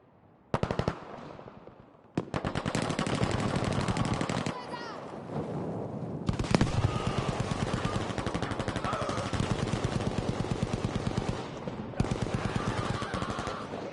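Rapid automatic gunfire fired from the hip in a competitive shooter video game match, loud, dense bursts running almost continuously with brief gaps and a few sharper cracks.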